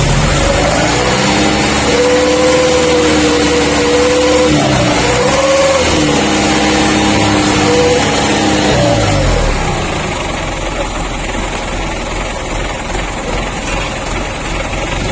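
A truck engine fitted with a wolf/kuntilanak-style exhaust revs loud and close, its droning note rising and falling through several pulls, then settling into a lower, rougher idle.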